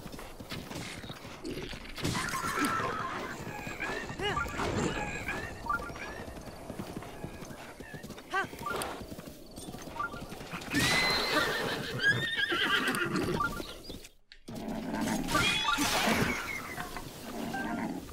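Horses in Zelda: Breath of the Wild whinny and neigh repeatedly while hooves clip-clop across the ground, with steady game ambience, a brief drop to near silence midway, and the commotion then resuming loudly.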